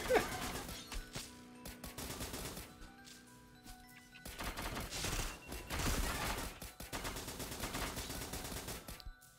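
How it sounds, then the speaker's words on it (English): A robot in a video game fires missiles in rapid volleys, with dense crackling blasts and explosions pounding in two heavy bursts separated by a brief lull. "I'm just using this robot as a way to fire missiles."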